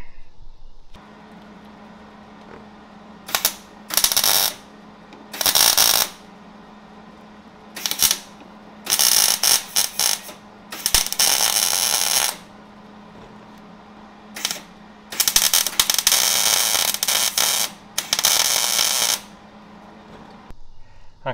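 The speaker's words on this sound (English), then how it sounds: "So we'll get the washer welded on now and start pulling it out." Welding a washer onto a car side skirt for dent pulling: repeated bursts of harsh crackling, buzzing arc sizzle, each lasting about a second, separated by pauses with a steady low hum underneath.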